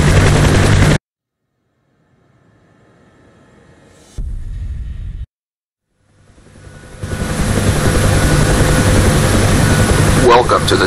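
UH-1 Huey helicopter in the DCS World flight simulator. A loud burst of rotor and turbine noise cuts off abruptly. After a quiet gap and a short low rumble, the engine swells into a sustained, loud, broadband roar that runs to the end.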